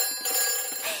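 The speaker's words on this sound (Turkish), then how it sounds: "Yangın telefonu çalıyor." A cartoon fire station telephone rings with a brief, bright electronic tone, loud and close, lasting about a second with a slight warble.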